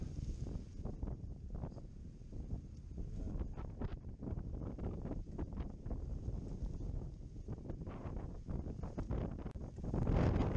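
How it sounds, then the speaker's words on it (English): Strong storm wind buffets the microphone in continuous low rumbling gusts on a patio, loud and close, swelling toward the end. "it is just too windy"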